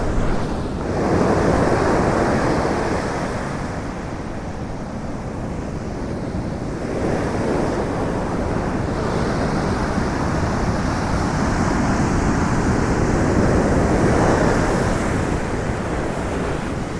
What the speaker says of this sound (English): Big waves, dude. Big waves.